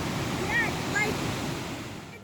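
The 24-meter Caribou Falls on a river pours down in a steady, broadband rushing roar that holds unbroken throughout, with a few faint higher tones drifting above it.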